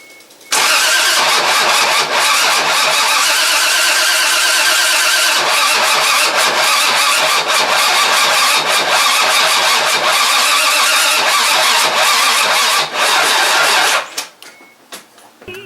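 An engine in an engine bay cranks continuously for about fourteen seconds, attempting to start but failing, a loud, close, steady rasping whir that never catches and then cuts off, with no talking.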